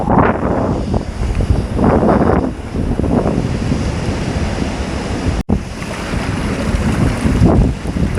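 Strong wind gusts across a seaside beach as the tide comes in, buffeting the microphone with loud, steady rumbling bluster and swelling gusts, one brief dropout midway.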